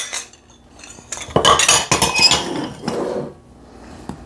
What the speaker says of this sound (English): We're just going to combine all those ingredients in this bowl